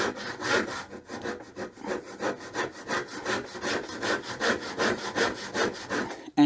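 A hand saw making a rip cut along the grain of wood: steady, rhythmic back-and-forth strokes, close and fairly loud, with no talking.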